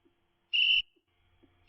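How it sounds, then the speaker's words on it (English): A short pair of high electronic whistle alerts from ChessBase chess software, clear and steady, the first about a quarter second long and a second one starting just as the clip ends. "Sorry if you hear that whistle. My chess base is yelling at me."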